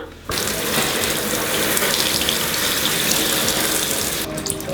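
Tap water gushes loudly and steadily into a sink close by as dyed hair is rinsed, starting abruptly after a brief quiet moment and running without voices until a slight dip at the end.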